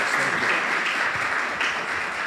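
Audience clapping for a keynote speaker at an annual distinguished lecture, a dense, steady burst of applause filling the hall for a couple of seconds.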